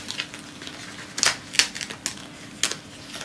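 A home label printer feeds and prints paper labels, giving a series of sharp mechanical clicks and clacks, about six quick bursts at irregular intervals over a quiet background with no talking.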